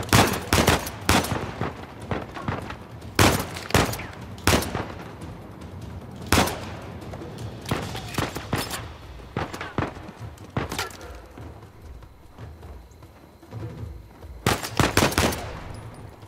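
Automatic weapon fire in Uncharted 4 rattles in sharp, loud bursts with uneven gaps over about sixteen seconds, some volleys close and punchy, with occasional speech between them.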